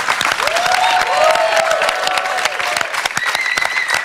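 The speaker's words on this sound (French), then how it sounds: "Je vous demande d'applaudir Adriano, Amarilise, Livia, Wendy et Cyril." A loud, dense burst of audience applause, steady clapping filling the room with a few whoops rising above it.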